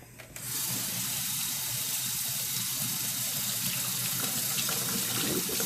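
Tap water running into a sink while a makeup brush is rinsed under it, a steady close gushing splash that starts abruptly and continues evenly.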